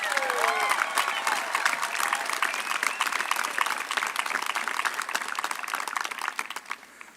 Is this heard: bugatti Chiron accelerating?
no